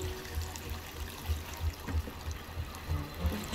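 Water trickling and pouring in short repeated bursts as a character drinks in the video game Assassin's Creed Valhalla, a close, low gurgling pattern over soft game ambience.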